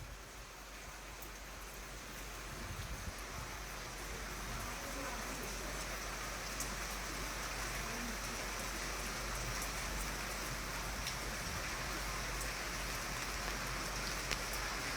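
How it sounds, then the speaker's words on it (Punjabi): Rain falls steadily in Jalalabad, a dense even hiss of drops that holds constant throughout with no pauses. "ਬਰਸਾਤ ਸ਼ੁਰੂ ਹੋਈ ਹੈ"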